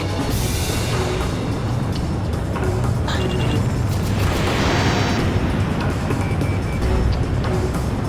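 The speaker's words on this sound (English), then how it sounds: "A large-scale explosion has apparently occurred in midair." A loud, sustained roar of blasts and rumbling fills the scene, with booming bursts layered over a constant low-end wash: a large midair explosion in the video game Ace Combat 6: Fires of Liberation.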